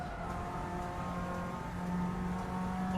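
Race car engine in Assetto Corsa, driven with traction control off, holding a steady loud drone with sustained harmonics and slight pitch shifts as it pulls through a corner, alone without talk.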